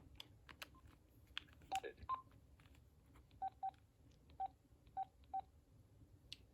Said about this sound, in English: And now I'm going to press 5, even though I was about to press off.